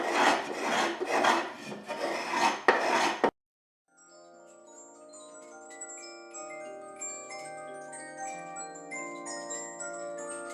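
Wood of a violin being scraped down smooth, several rapid rasping strokes in quick rhythmic bursts, close and loud, then a short silence before soft music plays.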